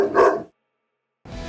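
A single dog bark rings out briefly and loudly at the start, followed by silence before another sound begins.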